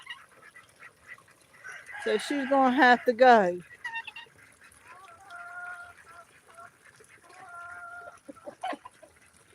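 A backyard flock of hens squawks and clucks in a loud burst of cackling, then settles into softer intermittent clucks and calls, with someone speaking briefly over them.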